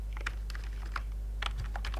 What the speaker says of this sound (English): I'm going to type my